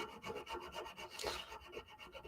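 Hand sanding the guard of a stiletto dagger produces a steady back-and-forth rasping rub in close repeated strokes, fairly quiet, with no talk.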